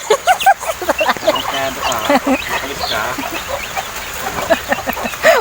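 Chicks and chickens clucking and peeping outdoors during heavy rain, with repeated close bird calls over a steady wash of rain and someone talking in between.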